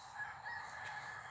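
Chickens and a rooster in rural Thailand, faint and distant, a continuous hum of fowl calls with a thin crow-like tone drifting over it.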